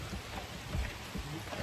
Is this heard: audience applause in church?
no